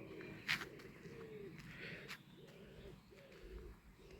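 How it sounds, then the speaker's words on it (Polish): Pigeons coo softly in the distance outdoors on a cool, windy spring walk, several low rounded calls repeating under faint background noise and a few chirps. "Gołąbki gruchają."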